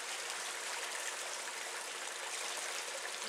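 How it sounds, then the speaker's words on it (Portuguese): Water from a natural spring flows steadily, a soft continuous hiss of running water heard close by with no voices, holding even throughout and swelling briefly at the very end. "Olha a nascente."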